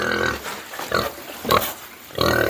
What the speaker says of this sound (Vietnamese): Tí này cho con lợn này ăn nốt.